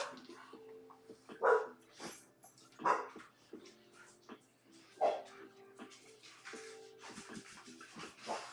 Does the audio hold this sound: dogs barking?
yes